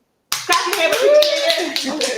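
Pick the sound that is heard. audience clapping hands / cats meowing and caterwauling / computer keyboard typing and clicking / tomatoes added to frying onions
audience clapping hands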